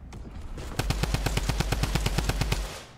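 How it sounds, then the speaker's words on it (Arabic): Rapid automatic gunfire in Fortnite, a steady burst of about fifteen evenly spaced loud shots that stops abruptly, with no talk over it. "عي يطلق سلاح يا عيال"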